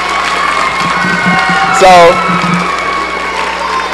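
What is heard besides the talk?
audience applause and cheering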